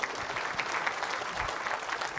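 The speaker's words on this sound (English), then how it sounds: "please give him a warm round of applause" An audience at a Microsoft partner conference applauds as a managing director is welcomed on stage. The steady, moderately loud clapping continues throughout with no break.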